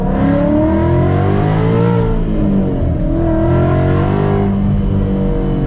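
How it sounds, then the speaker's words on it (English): A tuned Stage 3 Roush Mustang accelerates hard, its engine roaring loud and close with rising revs, a short drop at each gear change, then climbing again. "I guess we got to get you guys a little acceleration."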